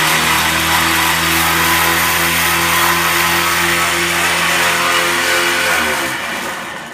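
A gas Scag lawn edger converted to an electric battery motor with a belt drive runs loud and steady, a constant high-pitched whine with a harmonic hum that winds down near the end.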